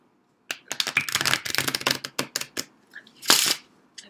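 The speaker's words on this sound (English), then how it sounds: "I'm trying to shuffle quietly." Playing cards being shuffled in quick riffling bursts, close and crisp, with a short pause and one final sharp riffle.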